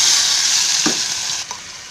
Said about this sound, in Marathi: हा मसाला सर्व त्याच्यामध्ये टाकून तेलामध्ये टाकून आहे ना, आता त्याची मस्तपैकी फ्राय बनवून घेते.